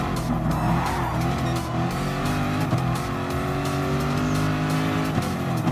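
Race car engine revving hard with squealing tyres at the Nurburgring in Gran Turismo Sport, a loud sustained engine drone with shifting pitch and occasional tyre screech.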